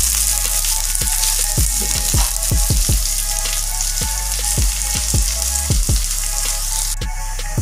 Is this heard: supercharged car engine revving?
no